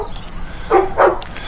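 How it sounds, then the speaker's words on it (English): A dog barks twice in quick succession at a backyard koi pond build site, the short loud yaps rising over faint outdoor background noise. "Excuse the dog, he's going nuts again."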